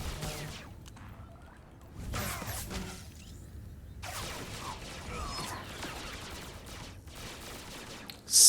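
Sweeping gunfire ability from a smuggler in Star Wars: The Old Republic on Taris: bursts of blaster fire and whooshes during game combat, with mechanical clatter and a swelling noisy wash and a louder hit at the end.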